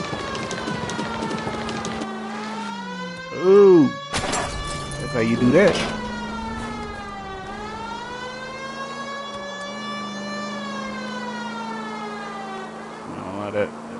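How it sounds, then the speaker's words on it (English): Police car siren wailing in the 1940s Los Angeles crime game L.A. Noire, a steady rising-and-falling tone running throughout with engine and brief impact noises, while someone talks briefly over it. "that siren is annoying"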